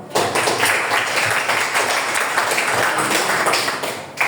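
A class of students claps together in a classroom, a loud, sustained burst of mixed clapping lasting several seconds.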